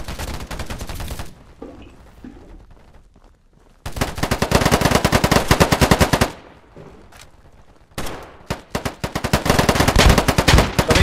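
Automatic gunfire in the shooter video game Polygon crackles in loud, rapid bursts, with a quieter gap in between before two more sustained volleys.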